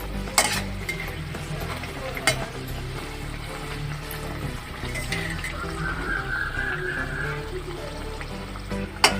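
Mini semolina mughlai deep-frying in hot oil, a steady close sizzle and bubbling running the full length, with a few sharp clinks of a utensil against the pan and no talking.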